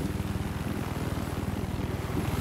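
A helicopter in a Battlefield match on Siege of Shanghai thumps steadily nearby, its rotor producing a fast, even pulsing beat over a constant engine drone, with no voices.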